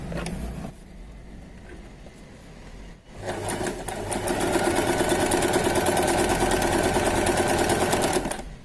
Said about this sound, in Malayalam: ഇനി നമുക്കിതൊന്ന് സ്റ്റിച്ച് ചെയ്ത് നോക്കാം